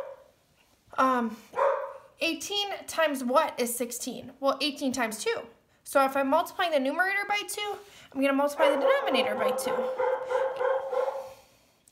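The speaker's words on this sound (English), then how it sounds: "Sorry, that's my dog." A dog barks and yips in bursts in a home setting, mostly under a person's steady voice working through a math lesson, with a longer run of barking toward the end.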